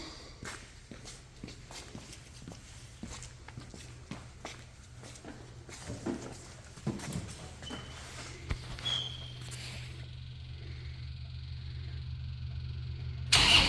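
Kubota diesel engine on a 2014 Moffett M55 truck-mounted piggyback forklift cranking and catching, with shuffling footsteps and clatter around it before the engine settles into a steady idle.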